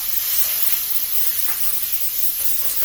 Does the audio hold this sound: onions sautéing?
yes